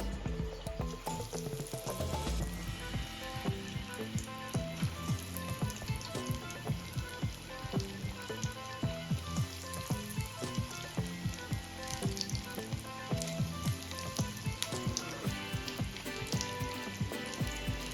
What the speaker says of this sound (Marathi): आपल्याला इथे छान गोल्डन कलर येईपर्यंत एक पोटॅटो रोल तळून घ्यायचे आहे